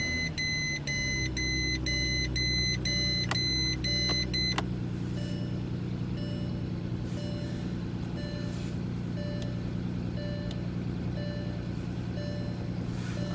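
The instrument cluster chime of a Porsche Cayenne 957 sounds a quick run of repeated electronic beeps in an even rhythm for about four seconds, then a low idling hum carries on beneath it.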